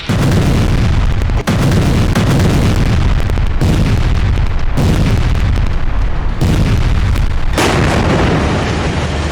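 Rocket and missile attack explosions strike cities in Israel as a dense, continuous roar of heavy booms, each loud burst breaking off abruptly and then restarting, with no voices heard.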